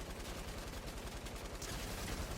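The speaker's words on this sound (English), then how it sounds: "we're going to try and get a light machine gun elimination here" Light machine gun fire in the Fortnite video game, a rapid continuous burst of dense rattling shots, steady and fairly loud throughout.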